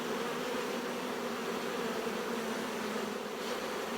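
Bees buzz around an open hive, a steady, soft, continuous drone at close range with no break and no talking.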